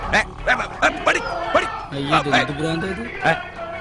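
A dog yips and barks in quick, repeated bursts close by, while a person talks over it.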